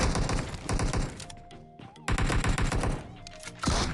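Bursts of rapid gunfire in a video game, with dense repeated shots and a brief lull before a second loud volley resumes; mechanical tonal hums and game sounds run underneath.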